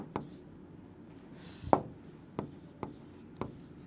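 A pen writing on paper, giving a series of short scratchy strokes with sharp ticks at irregular intervals, close and fairly quiet, with no talking.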